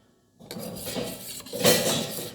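A utensil scrapes and clinks against a metal pot while soup with salt in it is stirred, a brief close burst of metallic scraping starting after a moment of near silence, with no talk.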